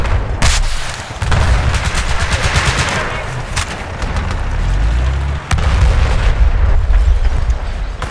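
Gunfire and explosions in the video game Battlefield 4 crack and boom nearly continuously, loud and dense, with heavy low rumbles under rapid shots and sharp single reports.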